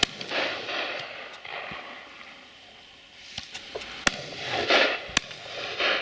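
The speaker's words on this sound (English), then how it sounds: "Oh, shot." Several shotgun shots ring out across a pheasant and partridge shoot in Dorset, a scattered series of sharp, mid-distance cracks spread over a few seconds against a soft outdoor background.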